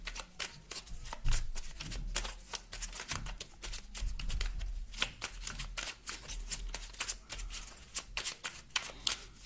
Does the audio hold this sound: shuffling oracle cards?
yes